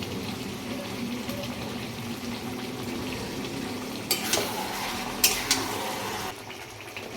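Ginger-garlic paste with cumin and whole garam masala paste frying in a karahi, a steady low sizzle with a few sharp scrapes or clinks of stirring near the end.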